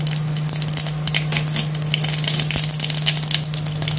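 Cumin and mustard seeds sizzle in hot oil with a steady, close hiss dotted with rapid crackles and pops. No one speaks over it.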